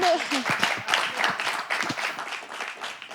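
Applause rises from a studio audience during a cooking talk show, a dense scattered clapping with a brief voice at the start.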